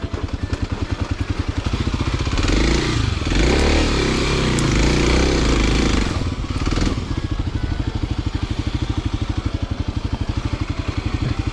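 A dual sport motorcycle engine idles with a rapid, steady thumping pulse close by, briefly swelling into a louder rev and rumble in the middle before settling back to a regular idle.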